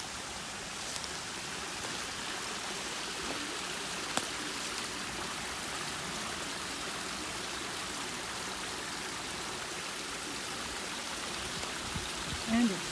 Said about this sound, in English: And it's sprinkling.